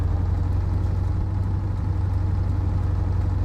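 A MAZ 5048 truck engine in American Truck Simulator idles at a steady, loud, low drone with a constant rumble throughout, alone and without talk.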